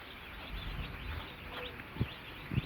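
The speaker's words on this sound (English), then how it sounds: "100 birds are over here" Baby chickens in a pen in Guyana make faint chirps and soft clucks over a low background hum, with a couple of brief thuds of movement near the end.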